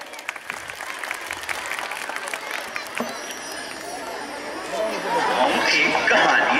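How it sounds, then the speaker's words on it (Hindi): Audience applause in a Hindi-speaking gathering, steady dense clapping that swells louder toward the end, with crowd chatter mixed in. "ताली दे जाए।"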